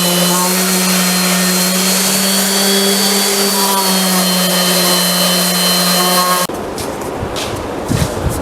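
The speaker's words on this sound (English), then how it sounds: "Just do a little sanding and we can put some finish on this thing." A power sander runs with a steady loud whine and hum while smoothing an oak and marine plywood three-step stool, then cuts to rougher scraping noise for the final two seconds.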